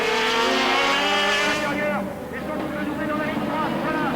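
Renault R21 Turbo and Citroën AX Sport racing at the Castellet circuit in 1988, engines screaming and shifting pitch as the cars pass close, with a commentator talking over them.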